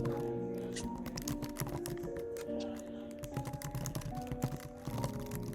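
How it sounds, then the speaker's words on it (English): Rapid, steady clacking of a computer keyboard being typed on, close and continuous, over a constant background hum. "I can hear that keyboard."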